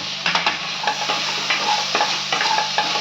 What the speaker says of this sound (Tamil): இப்போ தக்காளி போட்டுக்கோங்க